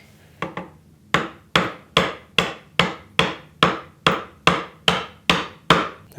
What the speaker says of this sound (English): just like the boring process, I'm tapping my way to the halfway point, and I'll come at it from both sides.